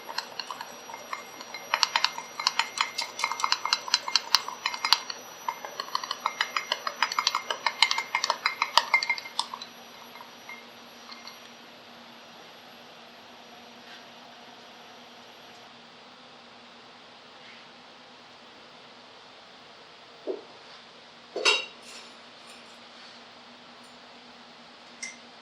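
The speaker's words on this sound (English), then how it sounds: "We can stir." A mixture being stirred in mineral oil in a lab container, with a run of quick, close clinking and scraping strokes for about ten seconds, then near quiet with a low hum and a couple of brief knocks.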